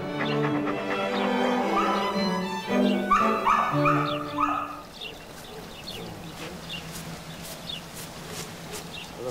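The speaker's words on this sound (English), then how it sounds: "a collection of pedigreed dogs, housed in kennels kept immaculately clean" Pedigreed dogs kept in clean kennels bark and yip in a noisy cluster for the first five seconds, then fade to scattered faint yelps over a steady background.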